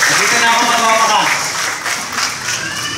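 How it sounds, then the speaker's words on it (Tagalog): A church congregation applauding, a dense burst of many hands clapping, loud at first and easing slightly, with some voices mixed underneath. "Pumalakpak."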